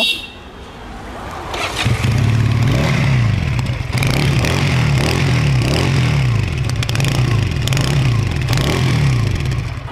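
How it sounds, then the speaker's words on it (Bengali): A Regal Raptor motorcycle engine starts and runs close by with a deep, throbbing rumble, rising and falling in steady rev pulses. "সবার সুবিধার্থে আমি বাইকের সাউন্ডটা একটু শুনিয়ে দিব"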